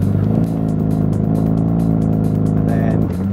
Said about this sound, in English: Give it full revs.